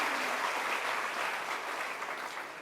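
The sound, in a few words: audience applause during a sermon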